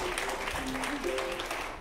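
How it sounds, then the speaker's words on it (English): Audience applause at an improv comedy show as a performer is called to the stage, a steady wash of clapping with a voice talking over it. "Just give Nick a round of applause, everybody."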